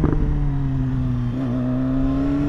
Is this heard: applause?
no